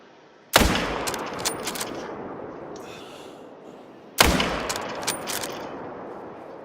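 Two sharp, loud hunting-rifle shots in a hunting video game, spaced several seconds apart, each a sudden crack followed by a long rolling echo that fades slowly.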